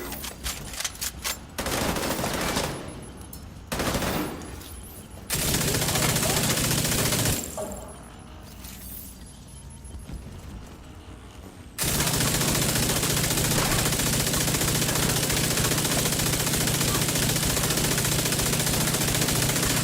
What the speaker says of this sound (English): You have the SMG backfire.